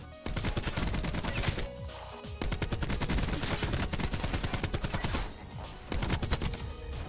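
Rapid automatic gunfire from the video game Black Ops 4 rattles almost nonstop in dense, loud bursts, with brief pauses between strings of shots.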